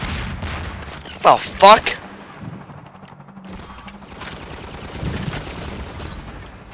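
Video game gunfire in a shooter, a couple of loud sharp shots near the start followed by distant scattered firing and ambient rumble, with a man swearing over it.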